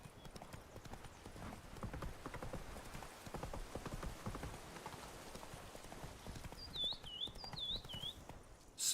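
Horse hooves clip-clop at a steady trot in The Witcher 3, continuous and fairly close, with a few high bird chirps near the end.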